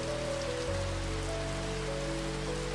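Gentle rain falls steadily, a continuous soft hiss of drops with a low rumbling undertone, heard alone without voices.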